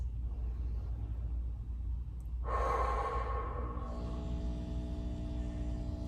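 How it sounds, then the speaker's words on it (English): A slow, deep exhale from a person doing self-massage with a ball against the chest, one long breath rising out of a low steady rumble, close and clear with no talking. "I'm going to sink in and just take a few breaths."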